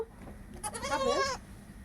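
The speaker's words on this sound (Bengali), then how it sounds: "এই ছাগলটা দেখতে কি সুন্দর" A goat, among a village herd with kids, gives a single close, quavering bleat lasting under a second, alone against quiet surroundings.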